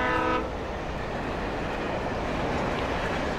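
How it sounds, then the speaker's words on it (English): A train rumbles past in Alan Wake, a loud continuous roar of rolling cars that opens with a brief horn blast. "So we got another train going there."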